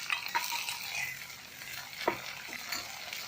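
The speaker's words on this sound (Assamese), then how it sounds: "পিঁয়াজ ৰঙা হৈ যোৱাত মই কাটি লোৱা বিলাহীটো তেলতে দি দিছোঁ" Chopped tomato sizzles in hot oil in a pan after onions have browned, as part of a lentil dal. The frying is soft and steady, with occasional scraping stirs of a spoon.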